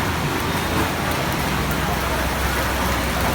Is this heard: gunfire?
no